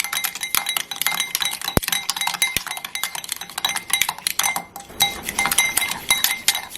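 Dalgona coffee mixture stirred briskly in a glass: a dense, steady run of close, bright clinks and taps of a utensil against the glass wall, continuing without pause.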